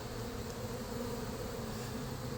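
Honeybees buzz steadily during a bee removal in Winter Haven, Florida, a faint, continuous droning hum with no breaks and no talking.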